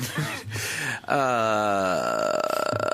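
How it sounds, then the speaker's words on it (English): A long, groaning creak of a door opening, rising and drawn out, following a short burst of noise. "That's a door opening, by the way."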